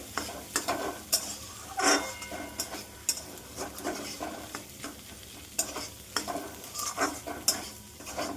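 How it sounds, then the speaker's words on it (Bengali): Egg fried rice is stir-fried in a pan over high heat: a quiet sizzle underlies repeated, rhythmic scraping strokes of a spatula against the pan, with no talking. "এবার একটু বেশি আঁচ দিয়ে ভালো করে ভেজে নিতে হবে"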